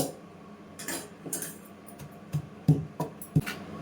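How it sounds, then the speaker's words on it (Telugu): Dried chillies, coriander and cumin are pounded into powder, giving a few sparse, close knocks and dull thuds that grow sharper toward the end over a low background hum. "మధ్యలో మధ్యలో గంటతో తిప్పుకుంటూ కారం పొడి మెత్తగా దంచేసుకోవాలి"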